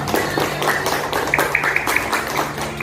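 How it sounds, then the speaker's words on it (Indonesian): A school class claps hands together in a quick, regular rhythm during a lesson, sharp close claps repeating about three times a second alongside children's voices. "kita beri tepuk tangan"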